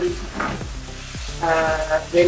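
Potato wedges, coated in corn flour, sautéing in a pan and stirred carefully, giving a steady sizzle with a few soft scrapes and clinks at close range, with no talking.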